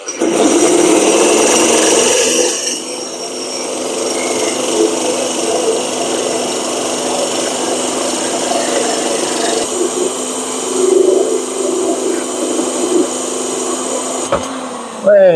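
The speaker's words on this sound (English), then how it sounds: "just take your time and gradually drill the hole in your pot" A power drill grinds steadily through a ceramic bonsai pot, drilling a drainage hole, for most of the clip, a continuous whirring buzz with a brief pause near the end.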